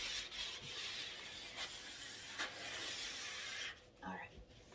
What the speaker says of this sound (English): I'll be sanding in between coats anyways